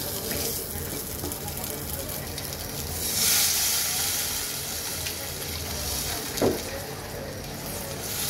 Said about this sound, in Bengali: এখন আমি ঝোলের জন্য জলটা দিয়ে দেব।